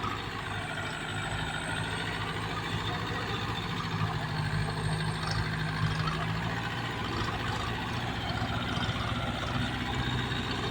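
A truck engine with stock exhaust idles in a steady, even low rumble that continues unbroken without revving.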